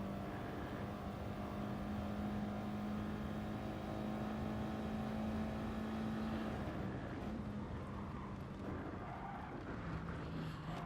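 Race car lapping the Nürburgring Nordschleife during the 24-hour race, heard onboard: a steady, droning engine note holding one pitch, then shifting lower as the car changes gear, with constant road and wind roar throughout.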